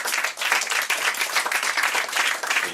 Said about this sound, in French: Mesdames et messieurs, on applaudit Canaries.